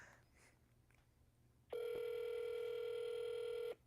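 A telephone call being placed to a church office: faint background noise, then a loud steady ringback or dial tone sounds continuously for about two seconds and cuts off abruptly.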